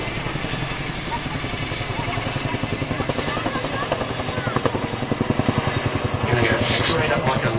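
A Chinook helicopter performing at the East Fortune air show, its twin rotors beating in a loud, steady, rapid thump that swells slightly near the end, with someone talking over it.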